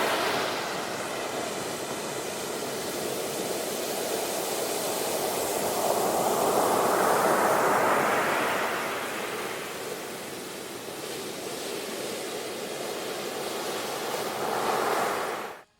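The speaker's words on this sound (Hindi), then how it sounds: "समुद्र की गर्जना सुनिए, बड़ी भयंकर है।" Sea waves roar in a continuous loud wash of surf, one big wave building and breaking midway before the steady rumble settles again, with no voices.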